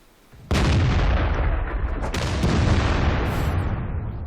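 A Chatillon 155 58 French tier 10 artillery piece fires in World of Tanks, a single sudden heavy blast followed by a loud rumbling roar that sustains and slowly fades, alone without talk.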